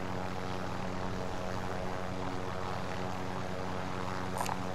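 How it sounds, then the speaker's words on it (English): Helicopter rotor and engine drone from the Warzone video game, a steady, fairly quiet whirring hum that holds unchanged throughout with no talk over it. "How dead is that helicopter though?"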